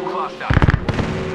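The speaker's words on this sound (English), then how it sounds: "Launching me knuckle cluster" Knuckle cluster launcher from Apex Legends going off: a burst of several rapid, punchy detonations close by, followed by a rumbling tail and continuing game noise, with a voice briefly audible.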